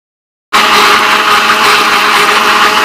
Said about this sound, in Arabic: وكنديروها في مولينكس كيتطحن مزيان